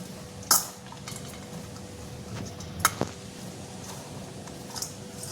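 Shredded cabbage, grated carrot and onion being mixed in a vessel for salad, soft rustling and squishing with a few sharp clinks of a utensil against the bowl, close and fairly quiet.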